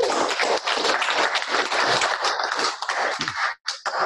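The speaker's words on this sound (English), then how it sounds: "Can I just do a quick round of applause for how many people have actually joined?" Meetup attendees give a round of applause, a dense patter of claps that stays steady for several seconds, then thins out and stops near the end.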